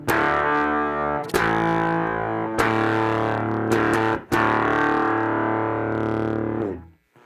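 Electric guitar through a vintage fuzz pedal, thick buzzy distorted chords ringing out loud and close, separated by brief choppy breaks before a final fade, with no talk.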